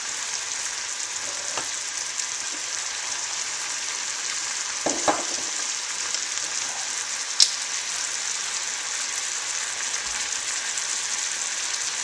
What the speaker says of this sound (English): I'll let that come to a boil there.